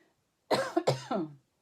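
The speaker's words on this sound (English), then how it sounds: "I still have a cough" A few sharp, close coughs in quick succession, harsh and chesty, with silence before and after.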